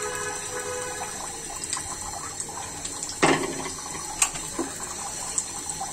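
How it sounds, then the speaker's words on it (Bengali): Tap water runs steadily into a sink while fish oil is washed off, a continuous close splashing stream with a few louder splashes and clinks. "এখন মাছের তেল ধুয়ে দিয়ে দিলাম।"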